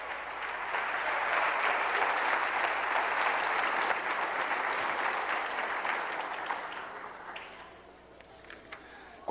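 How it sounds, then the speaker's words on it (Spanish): A church congregation bursts into sustained, dense applause that holds steady for several seconds, then thins out and fades toward the end, with a few scattered claps trailing off. "Denle un aplauso a ese Dios santo."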